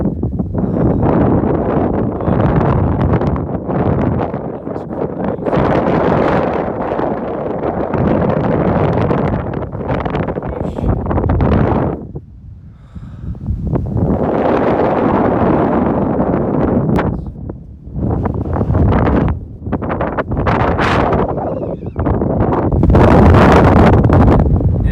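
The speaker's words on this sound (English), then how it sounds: "The wind is pretty crazy." Strong gusting wind on a hiking trail in Utah near Moab, roaring loudly across the microphone in long sustained blasts with a few short lulls.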